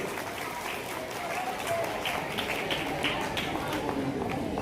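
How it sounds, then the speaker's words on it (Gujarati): Sustained applause from an audience at a student award ceremony, steady dense clapping throughout with a crowd murmur and a voice beneath it. "તાળીઓનો ગણગણાટ ચાલુ રહેવો જોઈએ."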